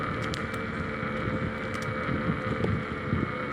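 Steady side wind buffets a cyclist riding a rail trail on a chilly evening, a continuous rushing, roaring noise across the microphone with gusty swells throughout and no speech.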